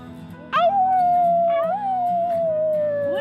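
A child imitates a dog howling, voicing one long drawn-out wavering howl that slowly falls in pitch, loud and close.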